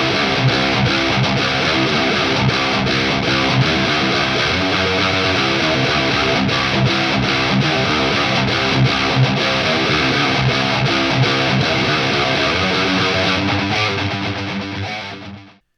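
High-gain distorted electric guitar through the Kazrog AmpCraft 1992 amp plugin, playing a dense, chunky riff that stays loud and full the whole way, with a wide mid-range, then cuts off cleanly at the end.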